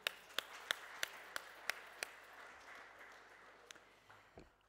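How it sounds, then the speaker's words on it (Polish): Applause for Mr. Jan at a Wadowice county council session comes as a short run of sharp, evenly spaced handclaps. The claps are quiet and distant, then fade into a hushed room. "Brawa dla Pana Jana."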